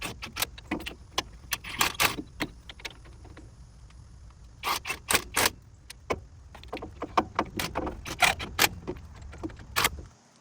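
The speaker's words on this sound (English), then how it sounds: "you're gonna get your bolts, tighten everything down" Metallic clinks, rattles and ratcheting scrapes of bolts being fitted and tightened on the wheel hub of a 2wd 2009-or-later Ford F150, in irregular bursts with short pauses, close and fairly loud.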